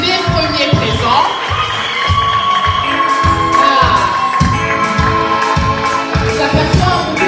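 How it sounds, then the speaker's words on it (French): A church congregation at a tenth anniversary celebration applauds, with loud rhythmic clapping in a steady beat, crowd cheers, and music playing in the background. "Des applaudissements, s'il vous plaît."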